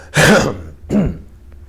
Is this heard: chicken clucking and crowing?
no